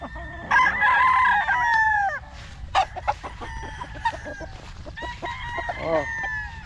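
Several fighting-cock stags crow repeatedly at close range, with loud long calls early and later overlapping crows and clucks from the flock.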